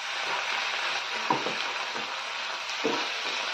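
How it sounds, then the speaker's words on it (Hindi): Paneer and mushrooms sautéing in a kadai, a steady close sizzle throughout with a few soft spatula stirs at intervals, no voices. "पनीर को भी हल्का सा इसके साथ ही सौते कर लेंगे।"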